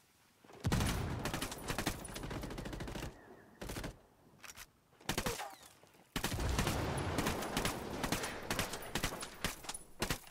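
Sustained bursts of automatic gunfire from the video game Ghost Recon Wildlands, loud, rapid and dense, broken by short pauses before long sustained volleys resume.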